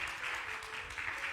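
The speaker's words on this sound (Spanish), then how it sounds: "Démosle un aplauso al Señor." Church congregation applauding during a Sunday service, a steady wash of clapping from many hands that fills the whole moment at moderate loudness with no pauses.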